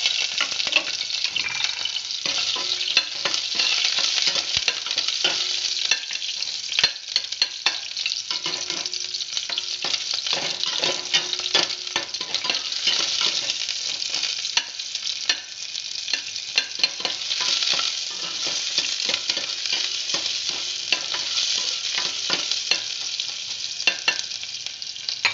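Onions sauté in a pan with a steady, close bright sizzle and crackle for the whole stretch, broken by faint scrapes of stirring and no voices.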